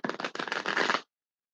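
A deck of tarot cards being shuffled close up, a quick ripple of crisp riffling flutters lasting about a second, then silence.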